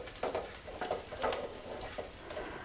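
Chopped garlic frying in hot oil in a pan over medium heat, a steady close sizzle with small crackling pops and faint stirring.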